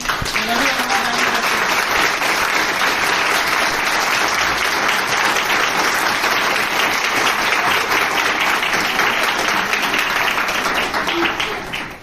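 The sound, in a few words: loud audience applause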